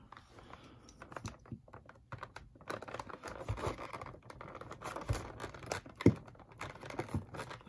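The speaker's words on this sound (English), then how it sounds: "so I'll just cut up all the tape" A knife slicing through packaging tape on a Bakugan Armored Alliance Aurelus Nillious Ultra starter pack box, close up as a run of short scratchy cuts, crinkles and tearing rustles with an occasional sharper snap.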